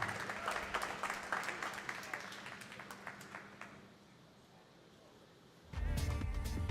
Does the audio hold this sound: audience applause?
yes